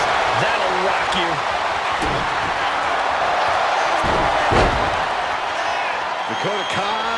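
In the WWE 2K25 wrestling video game, an arena crowd roars as a steady, loud wash of noise with occasional thuds and swells, while a commentator talks over it.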